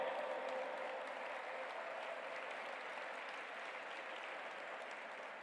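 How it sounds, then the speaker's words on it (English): Steady, even audience applause from a crowd at an interreligious G20 gathering, a soft continuous wash of clapping that fades slightly toward the end. "give a big round of applause, my friends"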